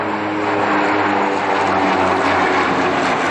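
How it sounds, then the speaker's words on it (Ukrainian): Il-76 and An-26 military transport aircraft during an airborne drop exercise, a loud continuous droning engine roar with steady propeller hum, close and dominant throughout without speech. "з літаків Іл-76 та Ан-26 здійснили десантування особового складу та техніки"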